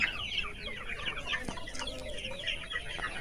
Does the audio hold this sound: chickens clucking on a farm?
yes